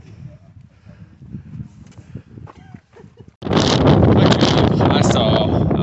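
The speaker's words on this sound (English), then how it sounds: "It is cold and windy, and you just cannot see anything." Cold wind on a foggy mountain summit at Clingmans Dome starts as soft, gusty buffeting, then becomes loud, roaring microphone wind that runs steadily to the end.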